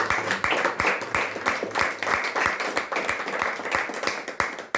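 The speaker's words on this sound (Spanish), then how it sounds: "Dele palmas al Señor" Steady rhythmic clapping from a church congregation during a sermon, many hands beating together in an even, quick pulse that fills the room without pause.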